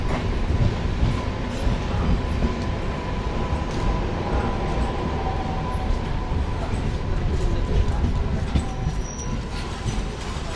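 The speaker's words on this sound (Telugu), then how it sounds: "సో బీబీ నగర్కి మన ట్రైన్ ప్లాట్ఫామ్ 2కి అయితే వచ్చింది" A passenger train on the Secunderabad–Vijayawada line pulls into platform 2 at Bibinagar station, giving a steady loud rumble of wagons with faint wheel squeal and a brief high screech near the end.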